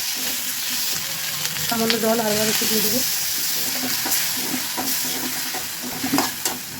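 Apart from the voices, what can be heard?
spice paste frying and being stirred in a pan for fish curry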